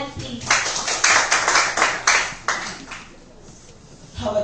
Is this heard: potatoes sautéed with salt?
no